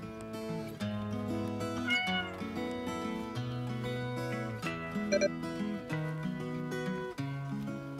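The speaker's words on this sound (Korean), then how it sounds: "고양이가 나를 반겨주고 있네" A cat meows several times in a row, its tonal cries fairly quiet and close, with nobody talking.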